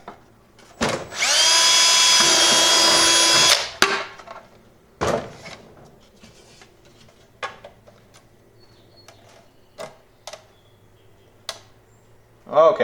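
A power drill bores a hole close to an existing hole while fitting rear speakers in a 1988 Ford Ranger, one steady whine of about three seconds, followed by scattered clicks and knocks.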